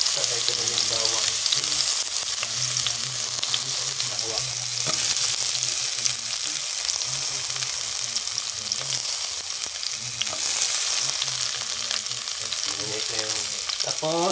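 Garlic, ginger and other aromatics fry in oil in a pan while cooking squid adobo, giving a steady, loud sizzle with crackling and occasional stirring, heard close up with no talking.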